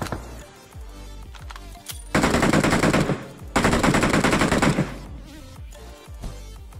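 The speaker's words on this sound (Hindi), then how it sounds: "तो मैं स्कार गन निकालता हूँ और अंधाधुंध फायर करता हूँ" SCAR rifle in PUBG on the Erangel map, firing two loud sustained bursts of automatic fire, each lasting over a second, with quieter game ambience before, between and after.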